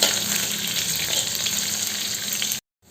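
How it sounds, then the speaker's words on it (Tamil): Chopped shallots fry in a pan for a Kerala-style tapioca dish, a dense, even sizzle that holds steady and loud before cutting off abruptly near the end. "இந்த மாதிரி சேர்த்து இது முருகட்டும். சின்ன வெங்காயம் முருகணும்."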